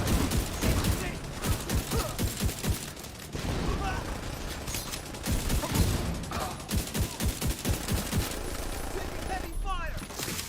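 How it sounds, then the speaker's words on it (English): Heavy sustained gunfire in The Division 2 video game, dense overlapping volleys and rapid shots rolling on for the whole stretch, with a voice talking over part of it. "Heavy fire"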